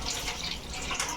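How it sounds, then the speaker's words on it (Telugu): Hands are rinsed under running tap water in a home kitchen, a short close steady splash and trickle with no talking. "ఇప్పుడు చెయ్యి అయితే కడిగేసుకుందాం."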